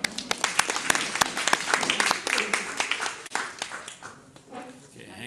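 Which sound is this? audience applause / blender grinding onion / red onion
audience applause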